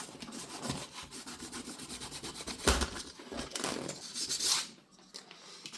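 Fine sandpaper wrapped around a pen is rubbed hard along the metal rails of an AFX slot car track, giving quiet close scraping strokes with a couple of sharper knocks and a brief pause, no talking.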